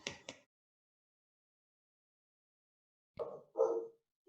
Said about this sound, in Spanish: estas perras, las voy a sacar que vayan a dar una vuelta.